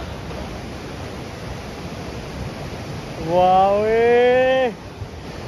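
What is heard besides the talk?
mountain water flowing under a bridge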